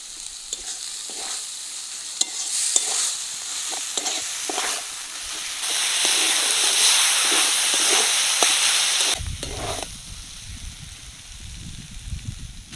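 Chopped chicken and grated potato filling frying and being stirred in a pan with spices, a steady loud sizzle and hiss with repeated scraping strokes, then the sizzle drops away to a lower rumbling fry.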